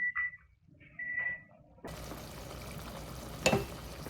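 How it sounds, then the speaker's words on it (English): Pizza sauce simmering in a pot for a pan pizza gives a steady, soft bubbling sizzle after a few faint beeps, with one brief clatter partway through and no voices. "Our sauce has been simmering, stirring occasionally for about 10 minutes."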